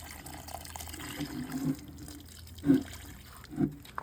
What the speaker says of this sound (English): I'm gonna take the water that I have in this little trash can that I use to test these things with, and we just water